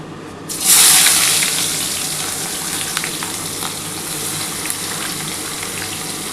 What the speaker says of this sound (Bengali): আমি প্রথমে কিন্তু 3খানা যে পেঁয়াজ কুচিয়েছি সেই পেঁয়াজটা দিয়ে দিচ্ছি